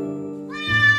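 A cat cries out during a bath, a single drawn-out plaintive meow that starts low and swells into a louder, rising wail, close and alone.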